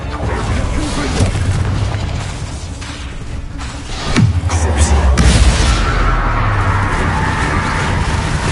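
Confringo blasting spell exploding in the video game Hogwarts Legacy, a sudden loud boom with a sweeping downward rush that leaves a rumbling tail over a steady game soundscape.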